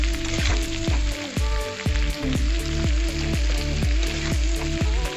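Hot oil with salt in a pan for a fish curry gives a loud, dense sizzle and crackle, with regular spoon stirring knocks on the pan repeating roughly every half second, no voices.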